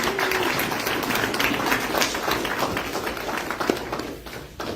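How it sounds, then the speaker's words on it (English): Applause as two volunteers come up on stage at a motivational seminar, a dense patter of clapping from a near audience that carries steadily throughout and fades slightly at the end. "Give them a big round of applause"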